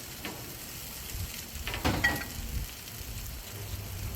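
Vegetables sizzling on a Blackstone flat-top griddle, a soft, steady frying hiss with a brief louder crackle in the middle.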